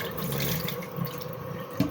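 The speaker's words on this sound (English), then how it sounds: "Rinse it out." Tap water runs steadily into a sink while dishes are rinsed, making a continuous close splashing rush with a small clink near the end.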